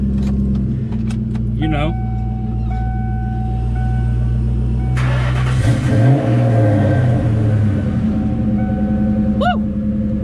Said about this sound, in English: Gotta get a cold start of the Cobra